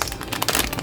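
Close, crisp crinkling of a little plastic baggie used to hold spent savings-challenge cards, a brief rustling burst lasting under a second with no speech.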